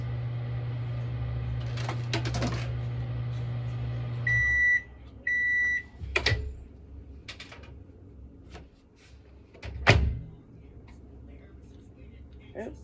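A microwave oven runs a short burst at half power to melt candy melts, a low steady hum that stops with two electronic beeps, then a door clunks and handling noises follow, with quiet talk in between.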